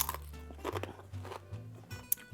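A few sharp crunches from biting into a crisp homemade corn tortilla chip, scattered over a couple of seconds with soft chewing noises between.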